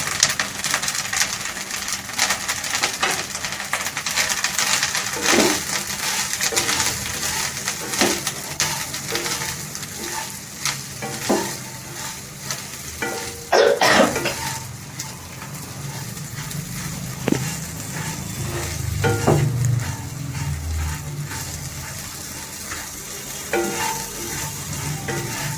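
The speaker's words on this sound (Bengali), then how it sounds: "এবার এর মধ্যে আমি এই ভেন্ডিগুলো দিয়ে দেবো।" A dozen or so okra pods fry in a hot pan, producing a steady, close sizzle with frequent scrapes and clacks of stirring throughout.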